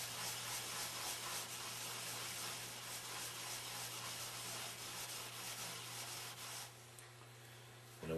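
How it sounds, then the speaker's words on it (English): Steady, continuous scrubbing as rust is rubbed off the outside of a Meyer E-60 snowplow pump part, a close, even abrasive hiss that pauses briefly near the end. "Just get the rust off. Let's clean it up nicely on the outside."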